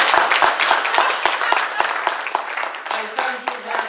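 An audience at an international food and agriculture dialogue claps, sharp separate claps at first, then merging into steady applause as a voice begins speaking over it.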